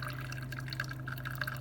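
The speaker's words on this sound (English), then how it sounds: "So I can still hear it brewing." A Black+Decker CM618 single-serve coffee maker brewing with bottled water gives a faint, steady dripping and trickling hiss over a low electrical hum, with no voices.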